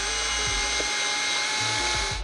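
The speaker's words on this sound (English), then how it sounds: "wanna put your drill in reverse to extend the jacks" A power drill running in reverse to extend the jacks on a Scout truck camper gives a loud, continuous motor whine with small shifts in pitch as it drives the jack mechanism.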